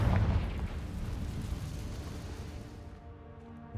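A Confringo fire spell explodes in Hogwarts Legacy, a loud low boom up front that rumbles on and slowly fades over several seconds.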